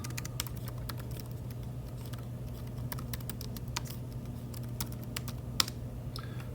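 Someone types a password on a Chromebook keyboard, giving a quick, irregular run of light key clicks over a steady low hum, with one sharper keystroke near the end.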